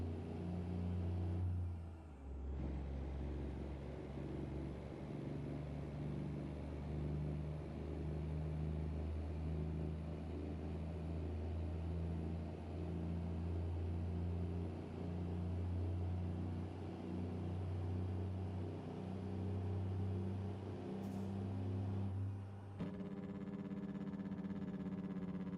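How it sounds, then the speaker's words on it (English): Kenworth W900 truck in a trucking video game pulling up to highway speed, a continuous loud low diesel engine drone with rising harmonics, briefly broken near the start and end, no talking. "Time to see if this truck can actually do 80 mile an hour."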